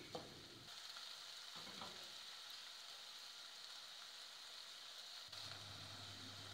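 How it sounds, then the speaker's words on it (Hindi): Onion paste fries gently in mustard oil over a low flame, a soft, continuous close sizzle with faint stirring scrapes, steady and unbroken, with no talking. "अब मैं इसको थोड़ी देर के लिए फ्राई करूंगी।"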